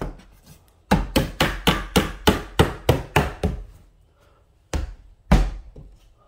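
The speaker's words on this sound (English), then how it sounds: "Oh, I can wedge it in there." A piece is wedged into place with a quick run of about ten loud, close, evenly spaced knocks. After a pause, two more heavy thuds follow alone.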